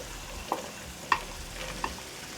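Zucchini cooks in a pot with a soft, low simmer, marked by three distinct utensil clinks against the pot.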